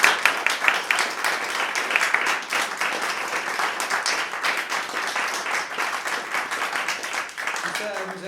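A theatre audience at an improvised comedy show applauds the sound and lighting technician, a lively run of many hands clapping, loud at the start and easing slightly over several seconds, with voices mixed in.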